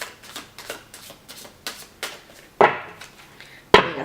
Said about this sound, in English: Doing a final shuffle.